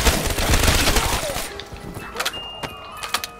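Gunfire in a Call of Duty zombies match on the Kino der Toten map: a quick burst of rapid shots for about a second and a half, then quieter clicks and small mechanical clatters.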